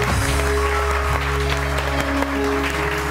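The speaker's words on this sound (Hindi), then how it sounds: "Ladies and please put your hands together for doctor Tania Sheikh." A live studio audience claps steadily and continuously for a guest, Dr. Tania Sheikh, on a morning show, a dense wash of applause that stays loud throughout with a faint hum underneath.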